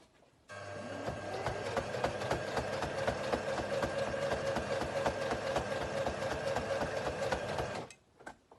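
A sewing machine that is struggling runs in one continuous burst of rapid mechanical stitching on a fabric face mask, close and steady, starting and stopping abruptly.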